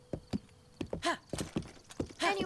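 A horse in the video game Breath of the Wild clip-clops close by, with a handful of uneven hoof thuds over a couple of seconds and a short whinny-like snort near the end.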